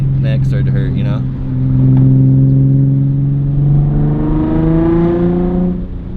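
A Nissan 350Z fitted with a Tomei exhaust revs up close and loud, its engine note climbing and holding as the revs rise and fall, with brief talk near the start.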